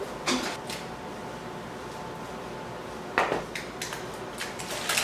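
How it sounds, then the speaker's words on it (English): A pan of baked bars comes out of an oven, with a couple of sharp metallic clanks and clatters from the tray against the rack over a steady kitchen hum. "I'm gonna take them out of the oven"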